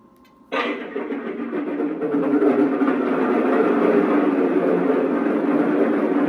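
A Lionel Legacy Shark model diesel locomotive's sound system starts up with a sudden burst, then settles into a steady, loud rumbling idle with a raspy, mechanical texture.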